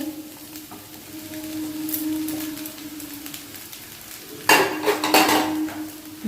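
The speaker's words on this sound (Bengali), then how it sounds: "দিয়ে এটাকে একটু নাড়াচাড়া করবো" Fried vegetables for egg chicken chow mein are stirred in a pan. A utensil scrapes and clinks against the metal over a steady low hum, and the clatter gets louder and busier toward the end.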